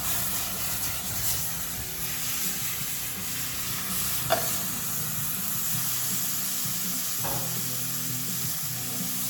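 Whiskey hitting a hot pan with minced garlic for braised smoked plate ribs, giving a steady close sizzle and hiss throughout, with two brief sharper spits midway and no talking.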